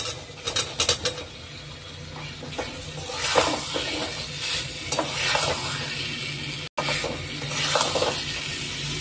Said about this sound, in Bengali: আলুর সাথে মশলাটা ভালো করে কষিয়ে দেবো।